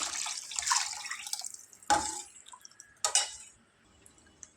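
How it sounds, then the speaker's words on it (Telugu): Boiled tamarind juice poured into a pot for pachi chintakaya pappu charu, giving three separate splashy liquid bursts with trickles and drips between them, close by and with no talking. "దాంట్లో నుంచి తీసుకున్న రసాన్ని ఇందులో పోసుకుందాం"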